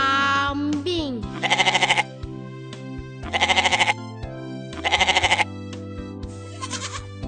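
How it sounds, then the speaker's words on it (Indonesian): A farm goat bleats in three loud, wavering, pulsing calls spaced a couple of seconds apart over a steady musical backing. "Kambing."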